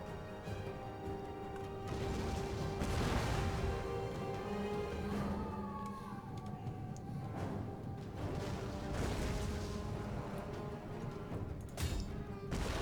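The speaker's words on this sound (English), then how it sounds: "Let's see what happens when an explosive round lands in the middle of them." Heavy booming impacts from explosive artillery rounds in Total War: Attila land in a few scattered bursts over a constant rumbling battle din, with no voices.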